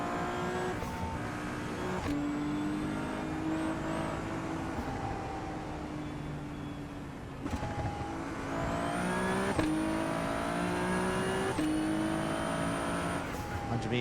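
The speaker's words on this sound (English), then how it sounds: "The downshifts in this are really nice. That little pop in the exhaust is really nice." Simulated race car in the iRacing sim on a twisty circuit, engine note rising and falling through gear changes, with downshifts and small exhaust pops running continuously under faint speech.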